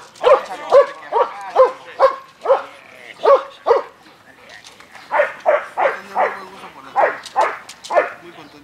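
A dog in a club training session barks in rapid, loud bursts close by, two runs of repeated sharp barks separated by a short pause.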